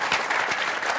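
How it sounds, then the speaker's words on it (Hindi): Audience clapping in welcome for a singer at a Hindi poetry and music stage event, a dense, loud round of applause from the crowd lasting about a second with no talking. "आप सबको ताली बजाकर एक बार और उनका स्वागत करना चाहिए।"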